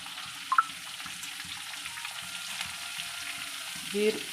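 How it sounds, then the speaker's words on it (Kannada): Onions dropped into oil in a pan for a ridge gourd stir-fry, a soft steady sizzle close by with a few light clinks of a spoon and a brief squeak near the end. "ನಂತರ ಇದಕ್ಕೆ ಈರುಳ್ಳಿಯನ್ನು ಹಾಕಬೇಕು"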